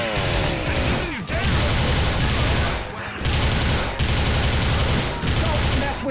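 Heavy automatic gunfire in the video game GTA Vice City, Nextgen Edition: loud, near, continuous rapid bursts with brief gaps between volleys, and faint voices under the shooting.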